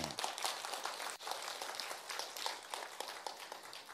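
Lively applause from a lecture audience during a talk on parenting and education, a thick, continuous patter of many hands clapping at a moderate level that holds steady for several seconds with no voices.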